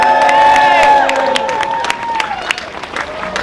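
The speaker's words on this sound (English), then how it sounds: "So let's give them a big round of applause" An outdoor crowd outside the Scottish Parliament breaks into loud applause and cheering, with whoops and sustained clapping that gradually thins into scattered claps.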